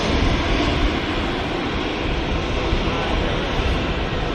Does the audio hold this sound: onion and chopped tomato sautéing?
no